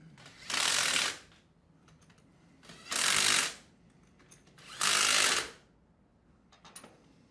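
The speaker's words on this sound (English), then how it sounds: "Go ahead and tighten the bolts up a little bit and then tighten them down evenly in a star pattern." Three loud, close bursts of ratcheting, each about a second long and separated by quiet pauses, as bolts are tightened on a non-metallic Sandpiper HD20F pump assembly.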